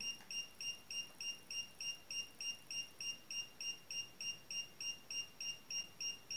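A Xiaomi Mi Drone 4K beeps while pairing in a fast, even series of short high-pitched tones, about three per second, steady and fairly faint against a quiet background.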